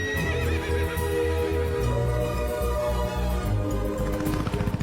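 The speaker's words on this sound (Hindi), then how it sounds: "घोड़े पे सवार होकर आएगा।" A horse neighs loudly and close by, a long shaky whinny rising and falling over several seconds, with a few hoof clip-clops near the end.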